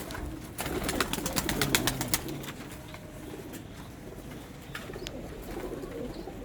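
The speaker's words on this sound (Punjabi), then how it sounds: "ਸਿਆਲਕੋਟੀ ਕਬੂਤਰ ਉੜਦੇ, ਛੱਤ ਵਾਲੇ ਕਬੂਤਰ" Rooftop Sialkoti pigeons coo softly and repeatedly, with a burst of wing clatter and flutter early on, over a steady low outdoor hum.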